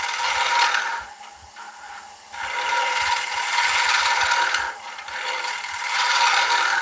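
A wood lathe spins an oak platter while a gouge cuts, giving a steady, close scraping and rasping hiss that briefly eases and resumes, with no talk.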